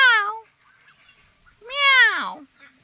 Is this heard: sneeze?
no